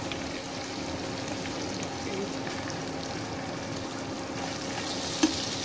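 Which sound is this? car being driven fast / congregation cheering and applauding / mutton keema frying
mutton keema frying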